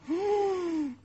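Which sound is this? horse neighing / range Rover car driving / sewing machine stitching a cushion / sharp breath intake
sharp breath intake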